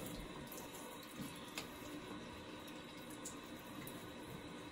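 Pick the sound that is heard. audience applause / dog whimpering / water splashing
water splashing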